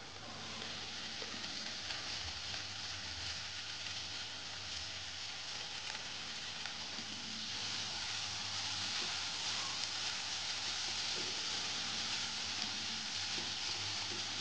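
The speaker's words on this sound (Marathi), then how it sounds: "हे छान परतून घेऊया" Chopped tomatoes sautéing in a pan for a matki usal recipe give a steady, close hiss and sizzle that thickens and grows slightly louder as it goes on, with no talking.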